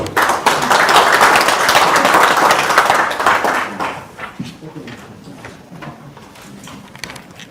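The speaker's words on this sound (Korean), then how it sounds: "큰 박수 부탁드립니다, 여러분." An audience applauds at the opening ceremony of an overseas Koreans policy forum in a National Assembly seminar room. Dense, loud clapping lasts about four seconds, then fades into scattered claps and room noise.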